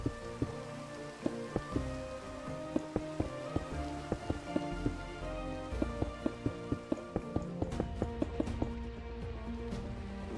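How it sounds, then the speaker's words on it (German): Rain falls steadily in Minecraft, a soft continuous patter under game music with repeated light taps throughout. "Da regnet's."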